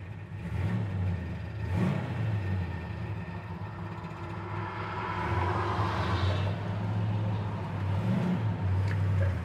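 A 1966 Plymouth Satellite engine idles with a steady, low rumbling drone that holds even and close throughout, with no talk.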